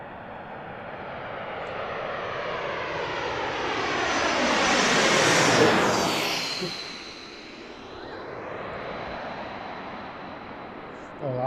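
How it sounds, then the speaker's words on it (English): A JetBlue airliner on approach to Washington National Airport passes close overhead at Gravelly Point. A loud jet roar swells to a peak with a falling Doppler sweep, then eases to a steady rumble. "Next arrival's coming in behind me. It's like, is that JetBlue?"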